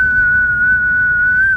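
A single steady, high, pure whistle held for more than a second at close range, clear and loud, then cut off sharply.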